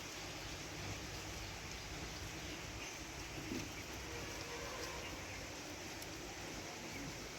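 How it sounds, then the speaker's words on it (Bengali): Rain falling on a rainy day, heard from a rooftop: a faint, even hiss of steady rainfall that runs unbroken throughout, with no talking. "দেখুন বৃষ্টি পড়েই চলেছে।"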